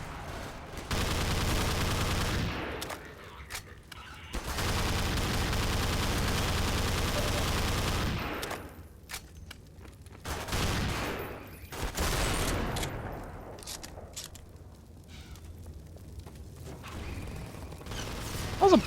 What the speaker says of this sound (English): Wow, that's a turret.